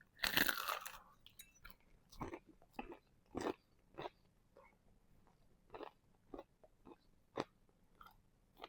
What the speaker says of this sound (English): They seem crunchy.